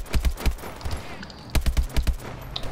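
Bursts of gunfire in Call of Duty Advanced Warfare, sharp repeated shots in quick clusters of two and three, fairly close and punchy, separated by short pauses with no talk over them.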